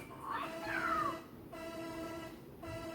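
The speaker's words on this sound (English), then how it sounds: "I want to see what Mega Koopa sounds like." Mega Koopa sound effect in a Mario music-level video game, heard as a brassy, tuba-like tone with a rising, sliding pitch, followed by steady sustained tones with short gaps between them.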